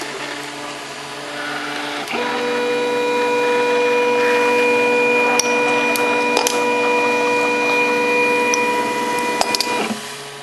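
A FlashForge Creator 3D printer prints a bed-leveling strip, its stepper motors whining in steady sustained tones with a constant fan hum, fairly close and loud, ending abruptly as the print is stopped near the end.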